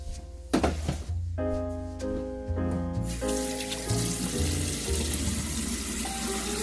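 Hands are washed under a running kitchen tap after handling raw turkey. Water gushes steadily into the sink, with a few hollow thunks and clatters early on.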